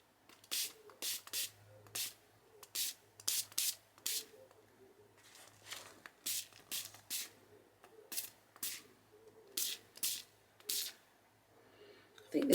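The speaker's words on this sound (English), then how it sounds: "I just watered it down with some water into one of these little mini misters, and I'm just going to spray the page" Repeated short hissing bursts from a small mini mister bottle spraying watered-down paint onto a junk journal page, quiet and close, in uneven clusters of two or three pumps with brief pauses between.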